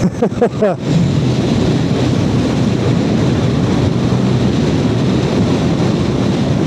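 A Hero Dash 110/125 scooter rolls downhill, its riding noise a steady roar of wind buffeting and road rumble after a brief vocal sound at the start.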